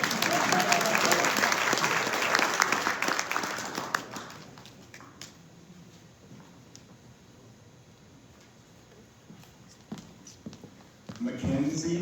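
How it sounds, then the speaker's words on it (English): Applause from the audience at a 2021 Doctorate of Physical Therapy commencement ceremony, loud for about four seconds, then fading to scattered claps and faint shuffling before a fresh burst of clapping at the end. "Yeah, you can clap."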